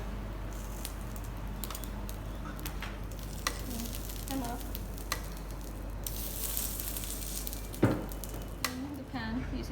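Beef BBQ steaks moved from the grill into a still-hot pan sizzle faintly and steadily, broken by scattered light clicks and clatter and a voice now and then.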